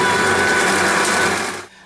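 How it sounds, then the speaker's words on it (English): A blender runs steadily while mixing an apple smoothie, a loud continuous whir with a coarse grinding texture that holds for most of the clip, then cuts off abruptly near the end. "we're going to turn our blender on, and we're just going to let it do its magic."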